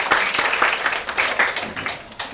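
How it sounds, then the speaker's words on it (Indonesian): Students in an Indonesian school classroom break into loud, close applause with some irregular individual claps, filling the short moment with no talk over it. "Oke, tepuk tangan untuk kita semua."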